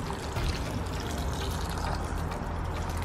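Water poured from a jug into dry potted plant soil, a steady close splashing trickle running for a few seconds without talk.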